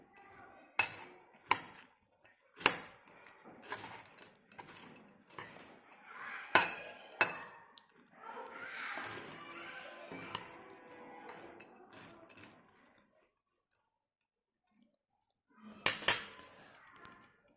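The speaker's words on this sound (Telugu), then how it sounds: "తర్వాత స్పూన్తో ఇలా అంతా మిక్స్ చేద్దాం." A spoon clinks and scrapes against a bowl while mixing a bhindi evening snack with tomato sauce, with sharp irregular taps and softer stirring scrapes, close and fairly quiet, ending in a pause and one last clink.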